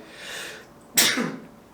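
A short, sharp sneeze bursts out after a soft intake of breath, close and fairly loud.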